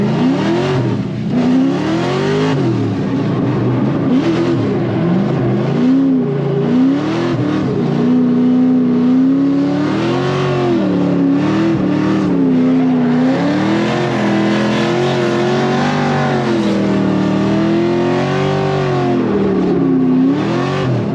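A 500HP LS3-swapped Mazda Miata race car lapping a track, its V8 engine roaring loudly and continuously with rising and falling revs through gear changes, close and dominant throughout.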